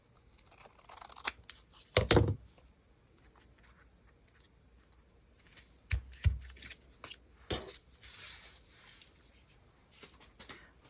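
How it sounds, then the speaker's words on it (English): Scissors cutting out a paper die cut for a small craft card, with several crisp snips and rustles spread irregularly over several seconds, close by and with no talking. "Like that, and then cut it out."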